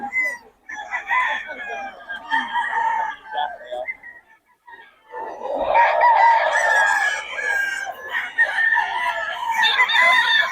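Several chickens cluck and squawk close by, and a rooster lets out a loud, drawn-out crow in the second half, with other birds calling around it.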